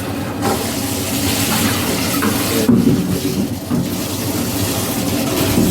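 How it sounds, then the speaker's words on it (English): Running tap water splashing into and rinsing a plastic bucket during fish tank cleaning, a steady loud gush with brief clunks of the bucket being handled. "Let's rinse out this bucket."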